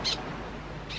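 Small birds calling outdoors on Curaçao, the Caribbean island: two short high chirps, one at the start and one at the end, with a quiet low background hum in between.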